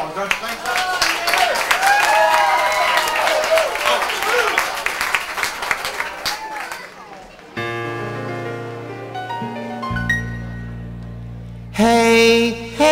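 Audience applause and cheering at a live reunion concert at The Cellar in Charlotte, NC. Dense clapping fills the first six seconds over excited voices, then fades as the band's instruments take over.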